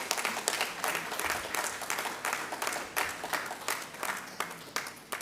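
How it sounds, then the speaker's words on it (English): An audience at a Jamaica Post Central Sorting Office re-opening launch applauds the post office staff, steady clapping from a crowd filling the room for several seconds. "They need a rousing round of applause"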